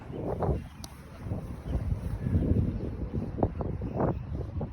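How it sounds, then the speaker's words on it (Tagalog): Wind buffets the microphone outdoors with a low, uneven rumble and occasional gusts, with no voices. "Mahangin naman. Pero hindi naman malamig yung hangin."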